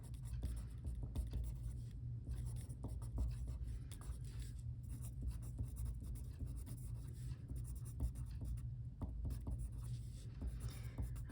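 Pen writing on paper during a geometry review, soft continuous scratching strokes close up under a low steady hum, without talk.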